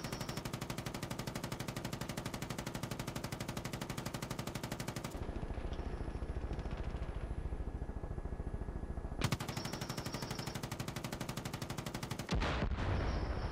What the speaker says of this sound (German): ich habe extra ein bisschen hoch hier geschossen jetzt mal